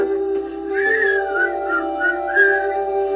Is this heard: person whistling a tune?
yes